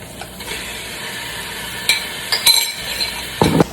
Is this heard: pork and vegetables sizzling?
yes